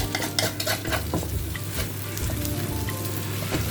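Wide rice noodles for pad see ew being stir-fried in a pan, a busy close sizzle with a steady low hum and repeated metal spatula scrapes and clinks against the pan.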